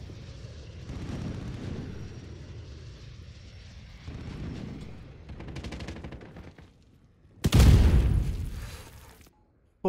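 A grenade goes off in an online Call of Duty: Modern Warfare team deathmatch, a sudden loud close blast with a roaring broadband burst lasting about two seconds after quieter game noise, then cutting to silence.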